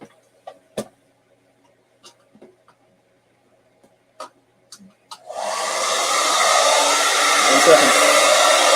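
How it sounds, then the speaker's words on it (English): A household blow dryer switches on abruptly after a stretch of scattered small clicks and taps, then runs as a steady, loud whooshing roar for the rest of the clip. "Here comes the blow dryer."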